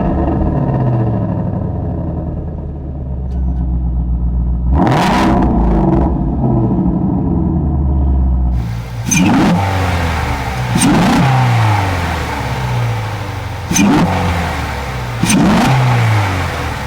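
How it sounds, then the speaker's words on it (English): Ford Mustang GT350 V8 revving loudly through its quad-tip exhaust, a steady idle rumble broken by about five sharp throttle blips that each rise and fall, recorded close with no talking. "let you hear what it sounds like under the hood when you hit the loud pedal."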